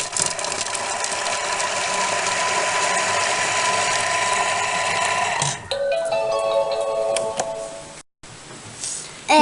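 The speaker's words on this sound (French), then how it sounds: "on voit bien que ça a tout mixé" A kitchen mixer in a home kitchen runs steadily at speed, blending ingredients with a loud whirring, grinding drone that stops abruptly after several seconds, followed by faint clatter and a short gap.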